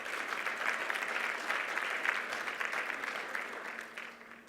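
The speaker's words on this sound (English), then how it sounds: "let's give them a round of applause for their support." An audience claps at a conference's opening ceremony, a dense, steady round of applause that holds evenly before tapering off at the end.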